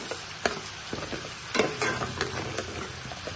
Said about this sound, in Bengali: এখন আমি কিন্তু কষাই নেব